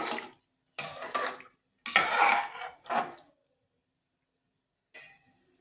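Scraping and stirring in a pot of salted coconut milk rice, several short bursts of a spoon working through contents with pauses between, close and fairly quiet.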